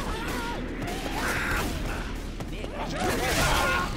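Rapid gunfire from Left 4 Dead 2 crackles in a busy burst of shots mixed with clattering game effects, loud and steady across the stretch, with voices of players calling out beneath the action.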